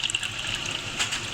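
Water is poured steadily into a pot of Lahori chickpea curry (cholay), giving a continuous close gushing splash with a brief surge near the end and no talking.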